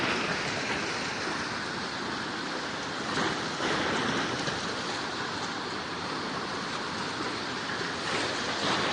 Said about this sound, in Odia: 24 ଘଣ୍ଟା ବର୍ଷା ହେବା ଫଳରେ ବିଭିନ୍ନ ନାଳରୁ ବର୍ଷା ଜଳ ଭର୍ତ୍ତି ହୋଇ ଚାଷ ଜମିରେ ବର୍ତ୍ତମାନ ନଦୀଟି